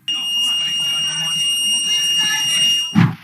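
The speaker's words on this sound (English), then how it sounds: "As alarms went off in the courtroom, people started to call for help." An electronic alarm rings steadily in a high continuous tone in a courtroom during an attack on a judge, while people talk and call for help underneath, ending with a loud thump.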